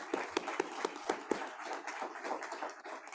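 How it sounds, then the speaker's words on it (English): Sparse applause from a board meeting audience, a handful of near, separate claps scattered over a soft room murmur rather than a full ovation. "would you please join me in a round of applause thanking our board members for what they do"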